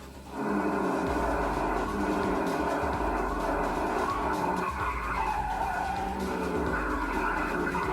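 A car in GTA drifts with tires skidding in one long continuous screech, loud and steady over a deep engine roar throughout.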